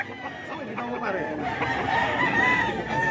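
Chickens and a rooster clucking and crowing close by in a yard belonging to a man with many birds, a steady layered flock sound with a voice faintly underneath.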